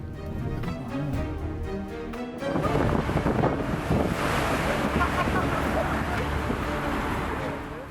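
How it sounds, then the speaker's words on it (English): A huge wave surges and crashes onto Newlyn Bridge in a storm, a loud roaring wash of water that swells and holds under heavy wind buffeting the microphone, with a voice faintly beneath. "The wall of water crashed onto Newlyn Bridge"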